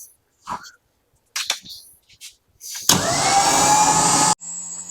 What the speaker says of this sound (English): We're just going to spool it out.